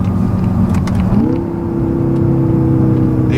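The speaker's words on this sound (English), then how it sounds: "The exhaust sounds great" A 2016 BMW M5 with a Dinan tune and modified exhaust revs loudly and close up, its tone rising smoothly around the middle and then holding at a steady higher drone.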